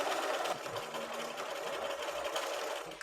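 A sewing machine stitches the last seam of a color-block quilt top, a steady close whirring hum with no pause until a brief stop at the end.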